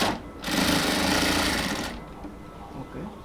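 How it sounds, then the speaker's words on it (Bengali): A sewing machine stitches fabric for a band collar on a Punjabi-style garment, giving a loud, close, rapid mechanical whir for about one and a half seconds before stopping, with quieter handling sounds afterward. "এই যে দুপাশ থেকে কাপড়টাকে টেনে নিয়ে সুন্দরভাবে তারপর হচ্ছে সেলাই করতে হবে।"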